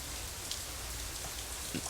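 Steady, even rain hisses through a visual novel video game scene as a dense, unbroken wash of sound with a few faint drops standing out.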